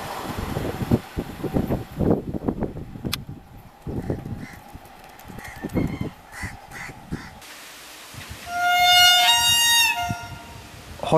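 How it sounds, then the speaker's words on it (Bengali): A freight train led by a WAG-9 locomotive sounds a long, loud horn blast at a railway station, following a stretch of rumbling, clattering station noise. "হর্নটা নিশ্চয়ই শুনলেন।"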